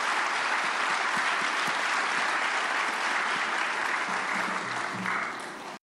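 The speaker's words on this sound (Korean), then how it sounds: "박수로 환영하시겠습니다" Audience applause welcomes a speaker at a prayer meeting for peaceful reunification, a steady wash of many clapping hands that holds throughout and stops abruptly at the end.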